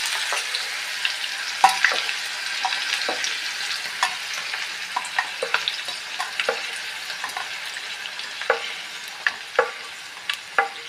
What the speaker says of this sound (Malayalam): നമ്മൾ പച്ചമുളക് നന്നായി ഫ്രൈ ആയി ഒരു പാത്രത്തിലെടുക്കാം